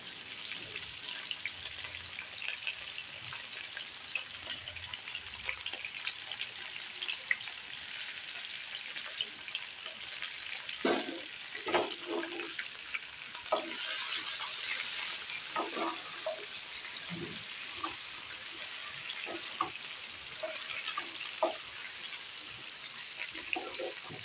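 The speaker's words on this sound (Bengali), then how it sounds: "সবজিগুলো একটু ভেজে নেব চাপা দিয়ে।" Vegetables frying in a covered pan give a steady, soft sizzle throughout, with occasional louder clinks and stirring knocks near the middle and no talking.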